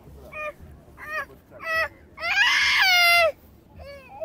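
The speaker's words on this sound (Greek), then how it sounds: "Έχει κύκνους, πάπιες και είναι όλα πάρα πολύ ήρεμα τα ζωάκια." Swans and ducks on Lake Orestiada in Kastoria give close, loud honking calls: three short nasal honks, then one long drawn-out cry, and a final softer call.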